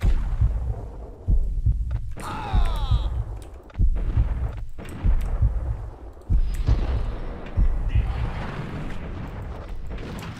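Grenade blasts and gunfire in the Max Payne 1 shooter: a series of sharp, booming detonations at irregular intervals, loud and close, with scattered debris and effects between.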